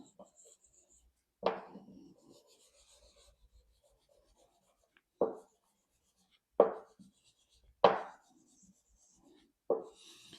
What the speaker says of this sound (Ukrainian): це все діло на жорсткому брусочку ми робимо, шліфовуємо не спіша